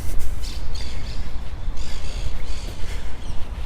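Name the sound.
birds singing and chirping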